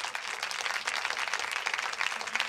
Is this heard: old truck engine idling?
no